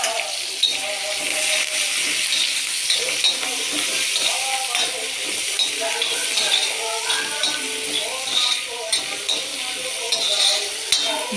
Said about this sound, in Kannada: ಇನ್ನು ಫ್ರೈ ಮಾಡಿ.